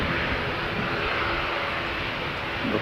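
An airliner taxis at foggy Christchurch airport, a steady, loud engine drone that holds even throughout without breaks and with no talking.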